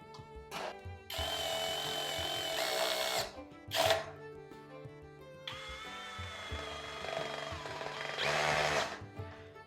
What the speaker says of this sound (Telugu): ఈ డ్రిల్ మిషన్ అయితే తీసుకొని మనం అయితే ఫిట్ చేసేద్దాం రండి